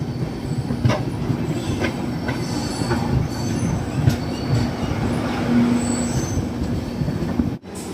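Upasana Express train pulling into an Indian Railways station, with a steady loud rumble of wheels and rail noise throughout, faint squeal tones and occasional clanks, no voices.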